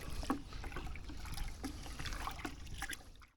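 Homemade natural liquid weedkiller mixture being stirred outdoors, giving soft, steady liquid sloshing and trickling with a few faint knocks, fairly quiet and continuous with no talking.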